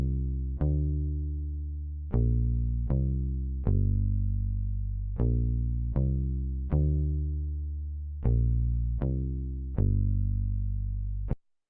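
Deep synthesized bass line with a single drop at the start, long sustained tonal notes struck at uneven intervals with clear attacks, loud and close, heard alone.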